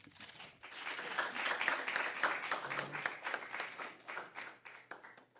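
A debate audience applauds speaker Uchenna, the clapping swelling after a quiet start and then holding steady, dense and moderately loud across several seconds, with a faint voice briefly underneath.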